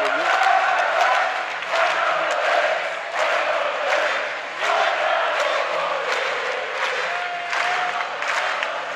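A basketball crowd at a Hungarian league game between Szolnoki Olaj KK and Alba Fehérvár cheers and applauds for the home team, a loud continuous roar with rhythmic chanting swells.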